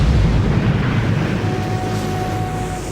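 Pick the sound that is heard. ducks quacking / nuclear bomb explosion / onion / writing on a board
nuclear bomb explosion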